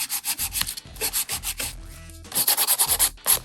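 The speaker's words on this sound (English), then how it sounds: "I'm gonna file the sides." Nail file, a 180 grit, being rubbed along the sides of fingernails in quick rhythmic back-and-forth strokes, close and fairly loud, with short pauses between bursts.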